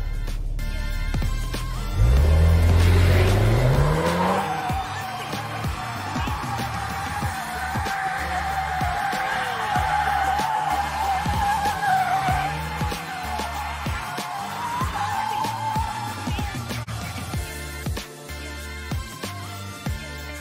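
A new Volkswagen Golf R in drift mode, its engine revving hard as the tires squeal and skid continuously for nearly twenty seconds, loud and close, with wavering pitch through the slides.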